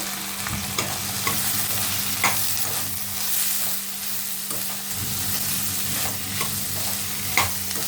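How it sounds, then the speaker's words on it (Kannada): Onion and bitter gourd frying in oil in a pan give a steady, loud sizzle, broken by repeated scraping stirs at an uneven rhythm, close up and with no speech. "ಇದನ್ನು ಆಯಿಲಲ್ಲಿ ಚೆನ್ನಾಗಿ ಫ್ರೈ ಮಾಡ್ಕೊಬೇಕು."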